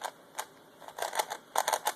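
A speed cube is turned quickly in the hand, making a series of light, crisp clicking bursts with a soft swish, close up and alone, in irregular quick clusters.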